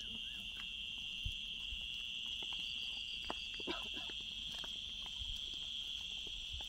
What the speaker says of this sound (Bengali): দেখেন শুধুমাত্র ঝিঝি পোকার ডাক